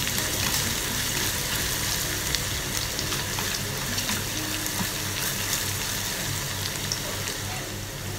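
Green chillies frying in oil in a pan while being stirred, a constant close crackling sizzle with occasional scrapes, steady and even throughout with no voice.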